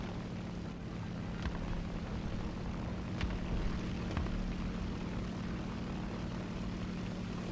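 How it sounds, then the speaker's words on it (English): Propeller fighter plane engine droning steadily in an air combat video game, a constant low hum with faint gunfire-like ticks, with no voices. "Oh god, I can hear a plane coming on me."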